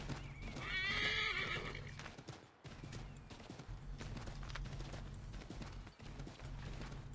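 A horse in a video game whinnies loudly near the start, followed by a steady clip-clop of hooves that continues throughout with some rustling.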